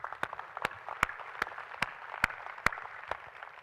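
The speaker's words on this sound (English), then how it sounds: "let's give them a round of applause" Keynote audience applauding, with sharp individual claps standing out over a steady bed of clapping from a crowd, moderately loud and continuous for a few seconds.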